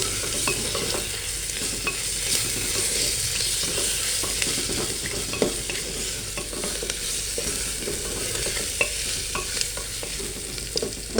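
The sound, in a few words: cooking egg biryani masala in a pan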